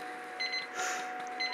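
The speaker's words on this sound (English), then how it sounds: "Sorry about the beeping." Faint electronic beeps sound in short repeated bursts over a steady background hum during fluid acrylic pour painting, fairly quiet throughout.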